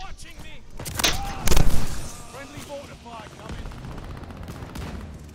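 Gunfire in the video game Call of Duty Vanguard, a few sharp close shots in single-fire mode with a loud burst around the middle, layered over game ambience and voices talking throughout.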